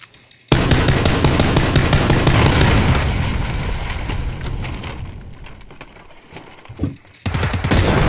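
Sustained bursts of automatic gunfire in the battle royale game PUBG, loud and dense for several seconds, fading briefly before a final volley resumes near the end.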